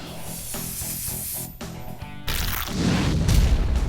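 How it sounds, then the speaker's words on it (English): Dupli-Color semi-gloss enamel aerosol paint sprays in short hissing bursts, then a longer, louder continuous spray, close by while refinishing suspension parts of a 1970 Camaro. "Enamel-based aerosol is going to give us a look that's very close to the original."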